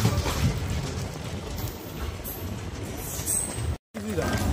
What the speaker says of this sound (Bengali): ট্রেন থেমে পড়লো অভয়পুরীর 2 নম্বর প্ল্যাটফর্মে